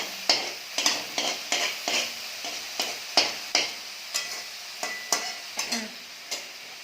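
Rhythmic scraping strokes of a spoon in a pan, about two per second, over a steady sizzle of mustard paste and spices frying.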